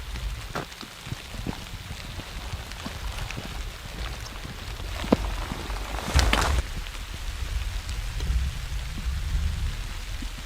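Rain falls steadily along the Stone Ridge hiking trail, a soft continuous patter with occasional sharper drops and a brief louder rush midway, with no talking.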